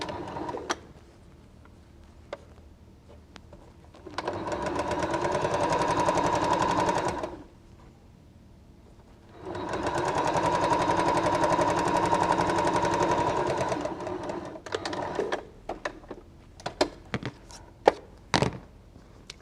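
A sewing machine stitches strips of quilt fabric in two sustained bursts of rapid, even whirring separated by a pause, with faint clicks and handling thumps before and after.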